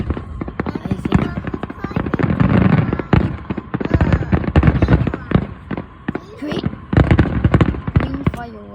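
Green fireworks burst repeatedly, with sharp cracks and crackles in irregular volleys, some close and loud, and a voice talks intermittently over them.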